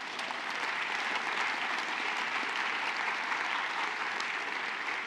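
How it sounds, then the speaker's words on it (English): A church congregation claps at a Bible study service: steady, dense applause at moderate volume that holds evenly throughout without letting up. "Give God a round of applause."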